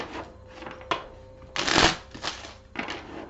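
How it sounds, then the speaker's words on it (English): A tarot deck being shuffled by hand: several soft riffling bursts, with one loud, close, sharp riffle in the middle, and no talking. "I do like to shuffle on camera so that you know I'm not breaking the deck."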